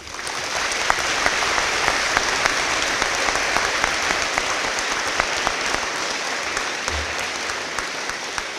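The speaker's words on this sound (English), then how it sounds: "please join me in a round of applause to honor our veterans" A school audience at a Veterans Day program applauds to honor veterans, producing a steady, sustained roll of many hands clapping that stays even throughout.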